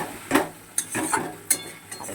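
Thick masala paste sautéing in a pan for katla fish curry, with soft sizzling broken by about four scraping stirs of a spoon at a loose, uneven rhythm, close and moderately loud, no talking.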